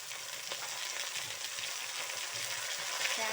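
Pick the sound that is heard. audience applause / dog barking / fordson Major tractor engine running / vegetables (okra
vegetables (okra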